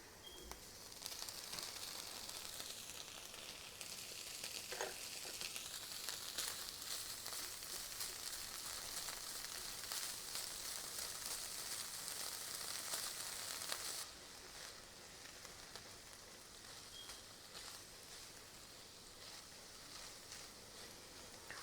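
Ham and bell peppers for a Denver omelet fry in a pan with a steady, close, hissing sizzle. The sizzle stays continuous throughout and drops somewhat in loudness partway through.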